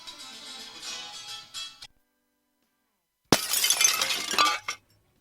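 A glass window shatters in a radio ad sound effect: a first burst of breaking glass, a brief silence, then a second louder crash of splintering, tinkling shards.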